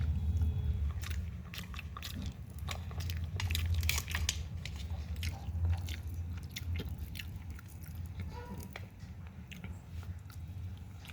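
Crunchy fried fish being bitten and chewed up close, with repeated crisp crackling bites over a steady low background hum and no talking.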